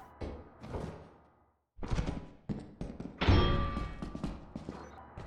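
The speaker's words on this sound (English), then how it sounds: "Multiple spike traps." Several heavy metallic slams from spike traps in the video game Lethal Company, loud thuds and clanks arriving in an irregular cluster after a brief silence, close and sharp.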